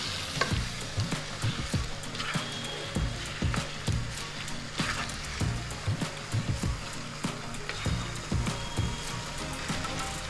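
Mutton kosha, Bengali style, sautéed in a covered pan: a continuous close sizzle broken by frequent scraping knocks of a spoon against the pan, with no talking.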